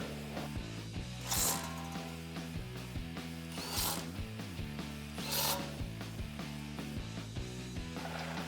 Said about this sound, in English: grab your 8 socket and tighten them down.